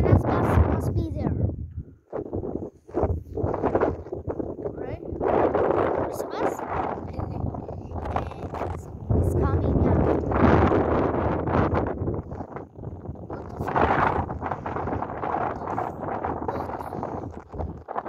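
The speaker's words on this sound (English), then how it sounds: "It's very windy." Strong wind buffets the microphone outdoors in a residential area while waiting for a small school bus, with loud low rumbling gusts that come and go throughout as people talk over it.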